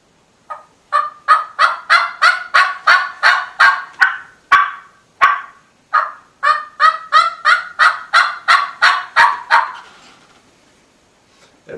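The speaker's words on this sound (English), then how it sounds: "Yelp is just a regular note of a turkey, just their average." Turkey yelp calls, a loud, close series of sharp rhythmic notes in two runs of about a dozen each, with a brief pause between them and a fading tail at the end.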